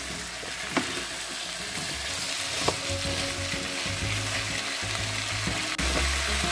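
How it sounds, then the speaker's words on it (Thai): Pork and cauliflower stir-fry in a pan, with a constant crackling sizzle and scattered clinks and scrapes of stirring, and no voices. "เนื้อหมูเริ่มสุกแล้วนะจ๊ะเดี๋ยวเราใส่กะหล่ำดอกเข้าไปเลยค่ะบ้านนี้จะผัดเยอะนะคะ"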